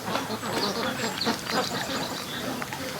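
Duck recovering from botulism giving soft scattered quacks in a pen, mixed with a person talking nearby.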